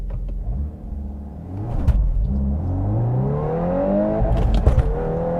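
A 2022 Volkswagen Golf R with a six-speed manual launches hard, the engine note climbing steadily in pitch through the run with a brief dip around a gear change, close and loud with no talking.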